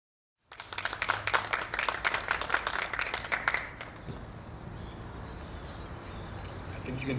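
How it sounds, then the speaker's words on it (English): An audience breaks into applause after a message from the Minister of Science and Innovation at the SAAO bicentenary. The dense clapping lasts about three seconds and then thins to a quieter room tone with faint chatter. "I think you can give another round of applause for that wonderful message by the Minister of Science and Innovation."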